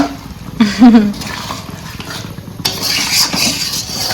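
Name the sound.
stirring and mixing a curry in a pot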